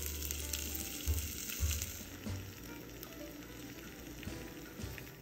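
Sausage fries in a pan, a soft, steady sizzle heard close over a low rumbling background, with faint handling bumps and no talk.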